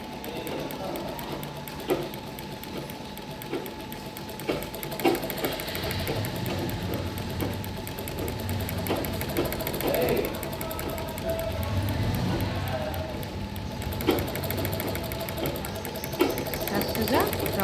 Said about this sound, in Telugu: ఇలా ఫోల్డ్ చేస్తూ 2 మడతలు ఫోల్డింగ్ చేసుకుంటూ కుట్టాలి.